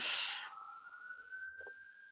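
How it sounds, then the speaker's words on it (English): A siren wails in the distance, a steady high tone holding after a brief burst of noise at the start, faint and far off. "you'll probably hear police cars in the background"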